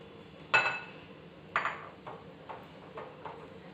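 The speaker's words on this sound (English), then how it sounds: "we just mix this in one direction to form a flowy paste" A spoon mixing milk into crushed Oreos in a bowl, sharp clinks against the bowl at first, then softer, quicker taps in a loose rhythm, close and quiet.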